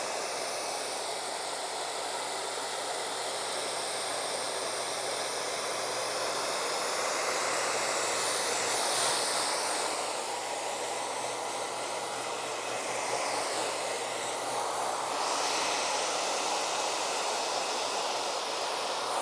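A hair blow dryer blows steadily over a man's fresh haircut, a loud continuous airy roar lasting throughout, with slight swells as the airflow shifts.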